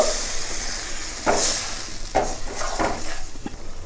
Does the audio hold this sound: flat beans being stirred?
yes